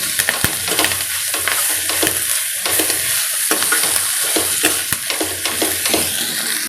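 Steady sizzling of ginger-garlic paste frying in a hot pan, loud and close, with scattered clicks and scrapes of stirring throughout.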